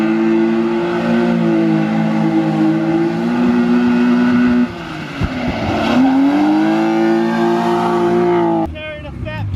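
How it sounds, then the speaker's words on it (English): A drifting car's engine howls at sustained high revs, then a sharp backfire pop cuts in midway before the revving resumes, loud and close, ending in a short burst of tyre and engine noise. "That backfire was huge, wasn't it?"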